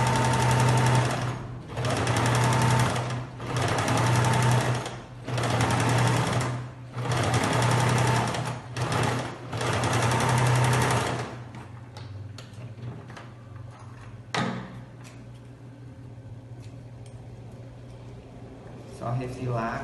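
A sewing machine stitches seams on felt in several loud, close bursts separated by short pauses as it runs forward and back, then stops, leaving quieter handling sounds and a faint click; a person speaks over the stitching.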